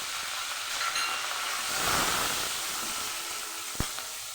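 Slit green chillies and black cumin seeds frying in hot white oil give a steady close sizzling hiss, swelling toward the middle and ending with a brief sharp knock.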